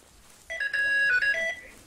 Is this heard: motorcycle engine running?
no